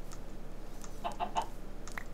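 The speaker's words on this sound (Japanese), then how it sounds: "あんなとこにも鶏が" A few soft, short clucks come from a Minecraft chicken, faint and scattered over a quiet background.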